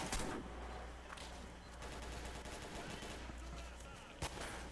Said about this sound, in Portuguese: O cara ali atirando.